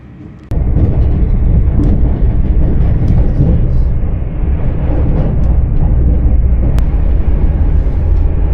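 Steady low rumble and rushing hum from inside a moving LNER passenger train, loud and continuous after a sudden rise at the start, with a couple of brief clicks.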